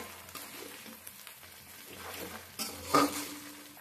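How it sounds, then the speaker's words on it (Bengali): Spice masala for palak paneer fries in oil in a pan, a soft, steady sizzle with stirring clinks and a sharper scrape near the end, fairly quiet and close. "এইভাবে তেলে যদি কষে নেওয়া হয় মশলাটা"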